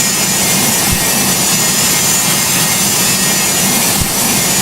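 Boeing 727 jet engines roar loudly and continuously on the takeoff roll in the flight game Project Flight, a broad, steady rush with two faint thumps.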